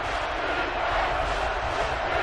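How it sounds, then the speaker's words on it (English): Dense, steady roar of a large stadium crowd cheering at a college football game in NCAA Football 11, loud and continuous without a break. "And this crowd is going crazy"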